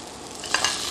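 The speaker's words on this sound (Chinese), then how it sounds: "把这个叉烧慢慢炒" Char siu pork with garlic is stir-fried in a wok, giving a steady close sizzle with a couple of brief scraping stirs partway through and no talk.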